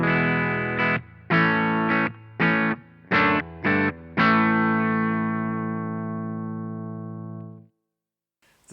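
An electric guitar played through a Boss GT-1 multi-effects unit with plate reverb sounds a few distorted, rhythmic chord stabs, then a final sustained chord that rings out and slowly decays, close and loud with no talking.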